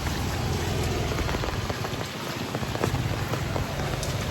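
Heavy rain pours down steadily, a dense, constant hiss of drops drumming on surfaces close by, with no voices.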